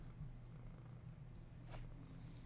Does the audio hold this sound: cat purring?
yes